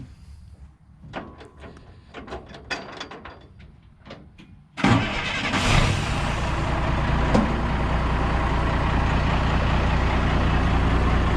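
A Loadstar truck engine cranks and fires after a few quiet seconds of clicks and knocks, then settles into a loud, steady idle close by with no talking.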